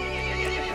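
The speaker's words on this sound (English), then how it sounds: "The horse grew angry and summoned the other monsters." A horse in the video game Resident Evil Village gives one short, close, loud neigh with no talking over it.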